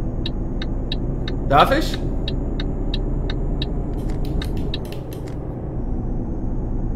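Truck engine in Euro Truck Simulator 2 accelerating, a steady low rumble that holds throughout, with a regular ticking indicator and someone speaking briefly over it.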